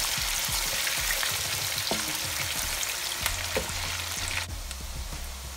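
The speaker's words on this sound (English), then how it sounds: "as our onions is cooking nicely" Onions fry in a pan as the base for an egg stew, a steady close sizzle with occasional stirring scrapes and clicks, continuous and fairly loud, with no voices.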